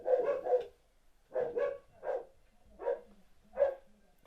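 Dogs bark indoors in a steady series of five or six sharp, mid-pitched barks spaced about half a second to a second apart, moderately loud with no talking over them.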